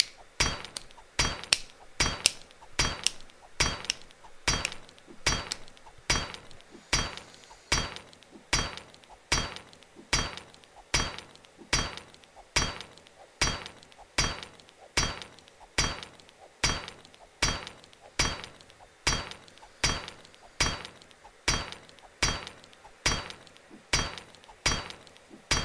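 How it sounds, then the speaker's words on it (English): Hammering in the video game 7 Days to Die: sharp, loud metallic strikes repeating at a steady, beat-like pace, roughly one blow per second, close and alone with no talk. "Hammering away. Got a little bit of a beat going."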